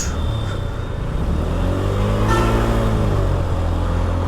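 A loaded TVS Apache RTR 4V motorcycle pulls a heavy van, its mid-pitched engine droning steadily and straining as it rises through the gears, close and loud with no voices.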